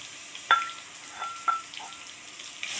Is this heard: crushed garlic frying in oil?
yes